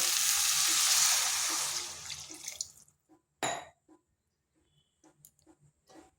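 Water pours steadily into a pan of lentils and yardlong beans for a few seconds, then stops, followed by soft scattered clinks and scrapes in the pan.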